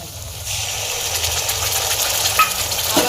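Chili, ginger and garlic paste hitting hot oil in a pan for chana masala, a steady close sizzle that swells as the paste goes in, with faint stirring scrapes and no talk.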